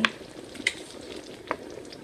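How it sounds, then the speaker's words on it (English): Pre-cooked homemade bacon bits being stirred into a pot of cheese and broccoli soup, a soft bubbling sizzle broken by a few light spoon clinks against the pot, close and quiet. "Next, I'm going to add in my pre-cooked bacon bits."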